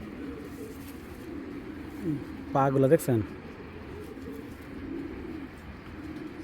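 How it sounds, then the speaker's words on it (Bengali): Low, soft coos of green-necked pigeons murmur steadily in the background, briefly interrupted by a short spoken phrase nearby. "সবুজ গলা দুইটা কবুতর দেখাইতেছি"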